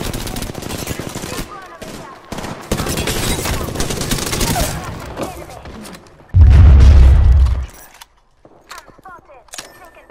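Gunfire rattles in Apex Legends as rapid shots and volleys, followed by a loud heavy boom near the end, with a player's voice talking over the action.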